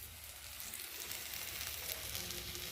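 Spice paste frying in oil in a pan for a fish curry, a soft continuous crackling sizzle, faint and close, with no talking.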